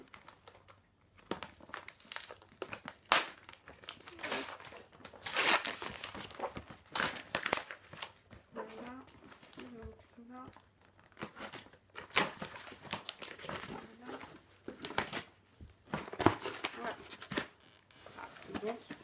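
Cardboard box being opened with packaging crinkling and tearing in bursts of rustling and crunching, close and fairly loud, with a person talking in between.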